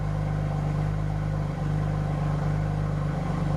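A BMW F82 M4 with a Dynon exhaust idles with its valves opened, giving a deep, steady low burble close by with no talking.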